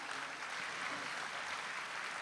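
A crowd applauds to welcome a guest at a livestreamed event, with faint, steady clapping that lasts about two seconds and no voices over it.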